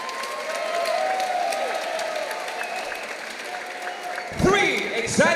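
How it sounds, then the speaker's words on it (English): Crowd at an MMA event applauding the fighters, a dense patter of clapping under an announcer's amplified voice, with a surge of cheering near the end. "Ladies and gentlemen, round of applause for both our fighters this evening."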